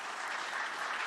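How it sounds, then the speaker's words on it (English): Conference audience applauding heads of state: steady, dense clapping from a large crowd, continuous and even throughout the short stretch with no voices over it. "Just a round of applause for all the heads of state that are here, the important people in this room."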